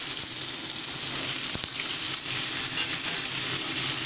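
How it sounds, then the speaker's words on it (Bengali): Pointed gourd (potol) pieces frying in hot oil left from frying potatoes, a loud, dense, continuous sizzle close up, with one brief knock partway through. "এবার পটলগুলোকে ভালোভাবে একটু ফ্রাই করে নেব।"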